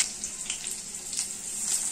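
Cardamom, cloves and black pepper tempering in hot oil: a continuous close sizzle with small bursts of crackle, short and fairly quiet.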